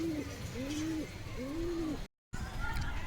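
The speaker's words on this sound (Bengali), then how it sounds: "এ হচ্ছে সবুজ দেবাস লর কবুতর" A green lor pigeon gives repeated soft, low rising-and-falling coos, several in a row, near and fairly clear over background noise, broken by a brief moment of dead silence.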